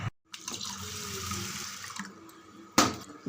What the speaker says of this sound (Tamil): நல்லா 3 டைமு வாஷ் பண்ணிடலாம்.